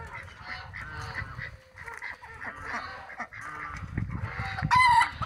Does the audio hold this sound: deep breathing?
no